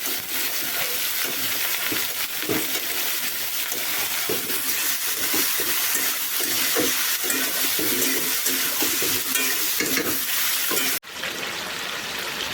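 Chicken is stirred and sautéed in a pan, giving a steady loud sizzle with repeated scraping strokes throughout. The sizzle drops abruptly near the end.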